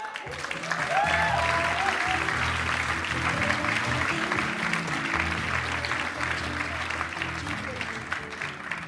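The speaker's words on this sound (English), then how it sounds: "I'd like you to welcome him to the stage." An audience claps enthusiastically in sustained applause at the Sydney Opera House, welcoming a performer to the stage, loud and steady throughout, with a few faint voices and whistles mixed in.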